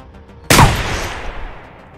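A single loud, close gunshot in the video game Receiver 2, with a sharp crack and a long echoing tail that fades over more than a second, with no talking.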